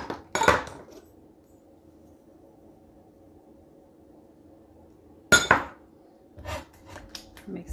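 A spoon clinks against a casserole dish while salt and pepper are mixed into a broccoli cheese casserole, two sharp close scrapes several seconds apart followed by a few lighter taps over a faint background hum.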